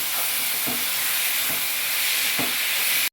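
Tomatoes fry in a pan with a loud, steady sizzling hiss, broken by about four soft scraping strokes of a stirring utensil, close up with no voices.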